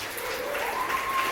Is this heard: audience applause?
yes